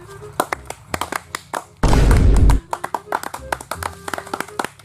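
An audience at a village comic performance about a pradhan election breaks into a short, dense burst of clapping, set among rhythmic taps and beats.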